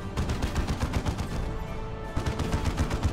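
Sustained rapid gunfire fills a battle in Warhammer 40,000: Dawn of War 2 Retribution, with dense overlapping bursts that continue steadily and loudly, broken only by a brief lull.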